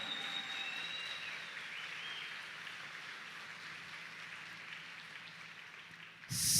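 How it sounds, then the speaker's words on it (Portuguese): Sustained applause from a church congregation during a Sunday Mass, a dense steady wash of clapping that fills the room, with a sharp loud burst near the end. "uma salva de palmas para ele"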